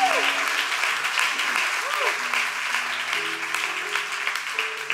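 Steady applause from a church congregation fills the sanctuary, broad and continuous, with voices calling out and singing tones rising over the clapping throughout.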